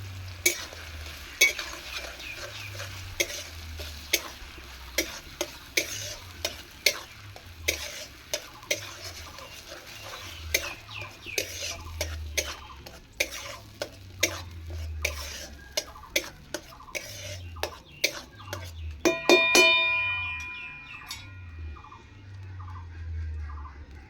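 A ground paste of onion, chili, garlic and ginger fries in hot oil in a pan, a steady sizzle broken by repeated sharp scrapes and taps of a spoon stirring, ending in a brief hiss and clatter.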